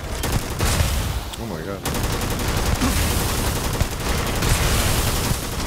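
Dense, rapid gunfire from a weapon in the sci-fi video game Starfield, loud and continuous with a short break, while a man exclaims over it.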